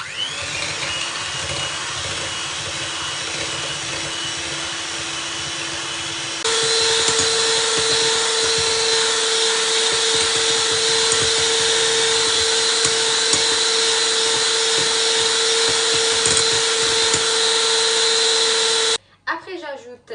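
An electric hand mixer whirs steadily through orange cake batter with salt and sugar, a loud continuous motor drone that steps up in speed partway through and cuts off near the end.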